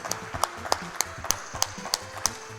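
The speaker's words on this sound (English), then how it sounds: "if you guys could give him an applause, that would be really cool" Scattered hand claps from an audience at a Summer Games Done Quick 2017 speedrun marathon event, around nine sharp separate claps over a low steady background hum.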